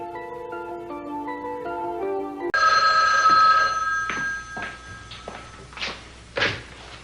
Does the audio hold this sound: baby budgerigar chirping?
no